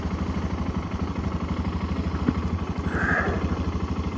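Motorcycle engine running on a snowy interstate, a steady close pulsing thrum with rhythmic low firing beats and a brief higher whine partway through, no talk.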